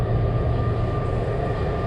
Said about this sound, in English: Here comes the train. Train's coming.